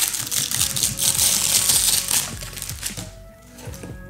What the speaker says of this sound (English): I'll just peel off the plastic.